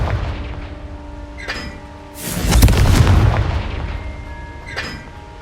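A Confringo fire spell bursts in Hogwarts Legacy, a loud booming blast that swells and rumbles for about a second amid game ambience, with sharper crackling pops before and after it.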